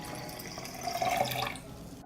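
Water is poured to dilute a homemade tea fertilizer for the garden, a short trickling splash that swells in the middle and then cuts off abruptly.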